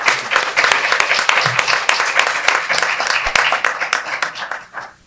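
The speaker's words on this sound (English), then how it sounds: "if we can give them a round of applause for being here with us" Audience applause for school district candidates at a forum, a full room clapping steadily for about five seconds before fading out, with a few individual claps standing out near the end.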